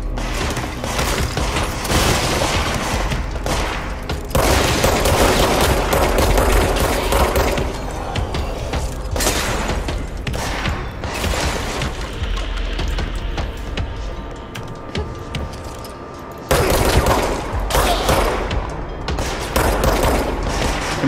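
Dense, sustained enemy gunfire in the video game Control, with loud overlapping volleys and booms filling the whole stretch and a short lull near the end before the shooting picks up again.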